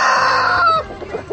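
A rooster crows loudly and close, one bright strained call that cuts off after under a second, followed by a few soft clucks.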